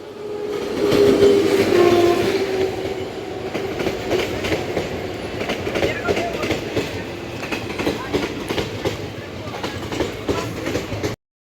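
A train rolls through a railway station with a loud, continuous rumble and rhythmic clatter of wheels over rail joints. A brief tonal horn-like note sounds early on, then the rumble carries on steadily to the end.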